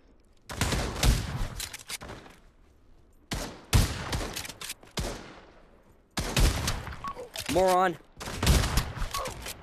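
Rifles fire in the video game Pavlov VR, with several loud, close bursts of rapid shots broken by short pauses, and a voice briefly speaking between volleys.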